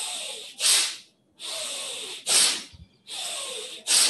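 Forceful Bhastrika breathing through the nose only: three rhythmic cycles of loud, hissing inhale and exhale blasts, close and alone, each pair separated by a brief pause.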